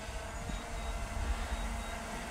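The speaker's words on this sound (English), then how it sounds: "The train was coming past literally when I was taking photos" A train rolls past on a railway line, a steady rumbling roar with low clatter heard outdoors at moderate distance, continuous throughout with no voices.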